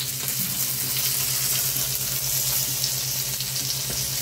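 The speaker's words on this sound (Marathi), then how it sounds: "आणि शॅलो फ्राय करून घ्यायचं." Marinated fish pieces coated in semolina shallow frying in a pan give off a steady, close, continuous sizzle with faint crackles and no talking.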